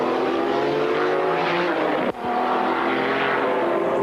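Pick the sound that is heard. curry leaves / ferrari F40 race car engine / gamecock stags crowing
ferrari F40 race car engine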